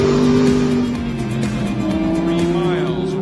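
A Porsche race car laps Utah Motorsports Campus in a GT race, its engine a steady, loud droning tone, with a voice speaking over the engine noise throughout.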